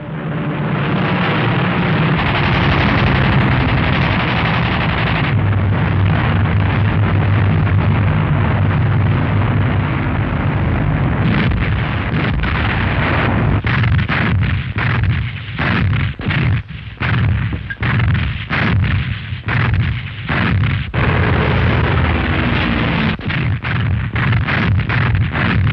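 Wartime German air raid with bombs exploding, heard as a loud, continuous roar of blasts and rumbling with sharper bursts crowding the later part, a dense, distant-to-near barrage without speech.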